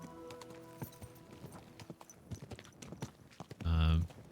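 Horse hooves clip-clop at a steady walking pace in Kingdom Come: Deliverance 2, moderately close, with a brief louder snort or whinny near the end.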